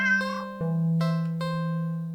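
A black cat in the video game Do Not Take This Cat Home gives a few clear, close meows, each a drawn-out tonal call, with no other sound around them.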